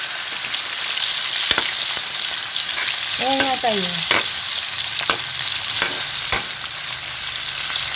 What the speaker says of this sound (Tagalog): Pagkatapos ipiprito nyo ngayon yung atay